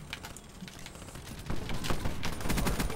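Weevil submachine gun firing in Black Ops 3, heard as dense rapid bursts of automatic gunfire that grow louder and busier in the second half, mixed with other game noise.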